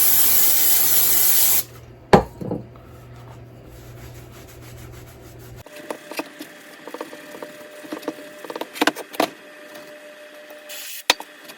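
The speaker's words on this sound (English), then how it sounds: "Take some carb cleaner." Carb cleaner hisses in a steady spray onto the gear case of a 1955 Johnson CD-12 5.5 HP outboard for about a second and a half, followed by scattered rubbing, wiping and small handling knocks at close range.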